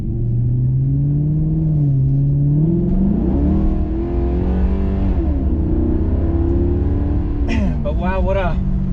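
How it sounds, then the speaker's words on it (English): A Maserati GranTurismo engine revs up close in cold weather as the car struggles for traction, its deep note climbing and sliding in pitch as it accelerates, loud and throaty. It ends with a sharp burst of higher crackles. "what a awesome noise this car makes"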